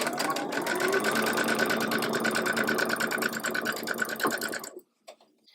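A sewing machine runs fast and close, stitching quilt block units sewn right sides together in a steady rapid rhythm for several seconds, then stops abruptly, followed by a few faint handling clicks.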